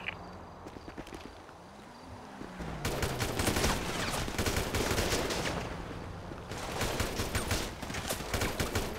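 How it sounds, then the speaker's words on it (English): Gunfire from a shootout in GTA V roleplay on NoPixel, with bursts of rapid shots in two dense stretches separated by a brief lull, loud and close, mixed with scuffling movement and no talking. "They're still shooting at me."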